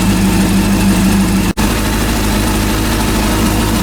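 A rebuilt Honda CB400 motorcycle engine idles steadily at close range, a continuous low rumble with one very brief dropout partway through.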